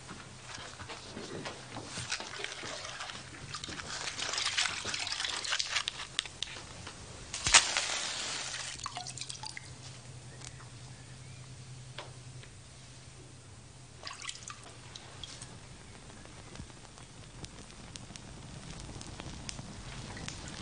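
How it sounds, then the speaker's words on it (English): Burning straw crackles and hisses for about twenty seconds, soft and close, with water sprinkled onto it giving louder sizzling bursts and a sharp snap partway through. "Watson, would you put a match to that straw? And Constable, will you sprinkle it with water?"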